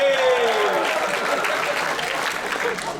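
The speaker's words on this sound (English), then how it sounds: "give her a big cheer" A comedy show audience cheers and applauds in a loud, sustained wave of clapping and whooping that fades slightly toward the end.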